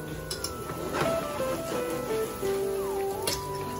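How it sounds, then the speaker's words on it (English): A steady crackling sizzle of food frying in oil like pancakes, with garlic and ginger, continuous and close, with faint clinks and a soft voice in the background. "It's like frying pancakes."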